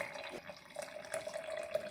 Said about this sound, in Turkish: Üzerine arıtılmış ya da dinlendirilmiş, kısacası klorsuz 500 mililitre sıcak su ekliyorum.